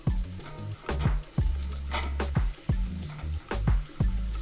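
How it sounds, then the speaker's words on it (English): Garlic sautéing in oil for Haitian white rice, a close, crackling sizzle repeatedly broken by rhythmic scrapes and knocks of a spoon stirring around the pot, about a dozen strokes with no voices. "Now as it's sauteing, you're just gonna mix it around just to make sure it doesn't burn."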